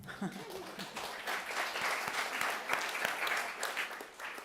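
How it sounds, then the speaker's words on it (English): A crowd applauds steadily with dense, continuous clapping that swells and holds for several seconds. "You may applaud."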